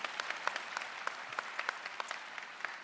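A commencement audience claps in a lively burst, many hands producing crisp, overlapping claps of moderate loudness that carry evenly through the short stretch.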